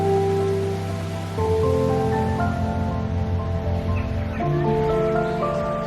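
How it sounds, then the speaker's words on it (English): Small waterfall in a Chinese garden in Edinburgh, a soft patter of falling, splashing water heard beneath prominent melodic music. "is that a little waterfall?"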